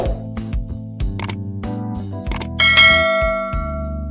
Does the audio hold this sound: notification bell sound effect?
yes